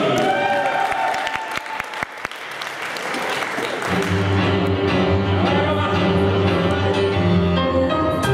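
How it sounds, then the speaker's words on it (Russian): An audience applauds at an advanced-level Strictly dance competition final, the dense clapping steady throughout while music fades in underneath partway through. "аплодисменты."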